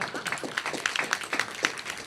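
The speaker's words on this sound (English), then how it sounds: "Give them a round of applause." Scattered clapping from an audience at an awards event for the judges, a handful of distinct claps rather than a full ovation, fairly faint and sparse.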